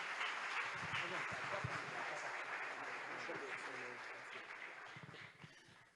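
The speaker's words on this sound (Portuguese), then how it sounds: "Vamos recebê-lo aplaudindo Jesus bem forte." A church congregation applauds loudly and steadily at an evangelical service, broad clapping that holds for several seconds before fading, with a voice faintly heard beneath it.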